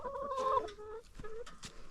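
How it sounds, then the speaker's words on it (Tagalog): Chickens on a small farm cluck and call at feeding time, with a drawn-out squawk up front and then shorter clucks, close by and without talk. "pakain na tayo ng mga manok"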